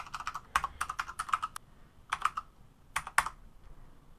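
Typing on a computer keyboard: light, close clicks come in quick, uneven bursts with short pauses between them.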